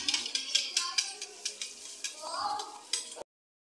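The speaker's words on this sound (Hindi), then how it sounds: "बर्तन धुल रही है" Metal dishes and pots are washed by hand, giving a rhythmic series of sharp clanks and clatters at close range, with a brief splashing hiss partway through before the sound cuts off abruptly.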